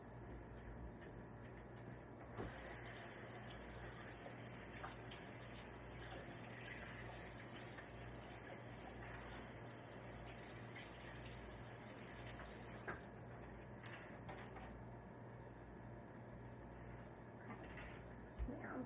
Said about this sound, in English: so I'm going to wash my hands and get this off of me